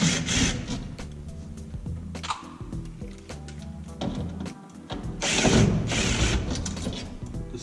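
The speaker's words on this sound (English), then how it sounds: "I'm gonna pull all the screws out of the trim that go around the top." Screws are worked out of the interior trim around the top of a Ford F100 cab, a busy stretch of ratcheting clicks, scraping and rubbing, steady and fairly close throughout.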